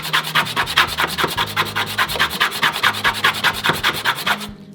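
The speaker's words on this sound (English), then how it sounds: "place that over, run our squeegee tool" A squeegee tool rubs back and forth over transfer tape laid on vinyl sheet, a close, rapid series of even scraping strokes in steady rhythm that stops abruptly at the end.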